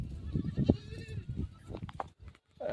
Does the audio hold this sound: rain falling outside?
no